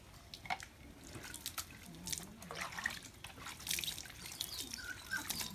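Water splashes and trickles over a golden retriever puppy at bath time, with irregular close drips and pours and a faint whimpering tone underneath.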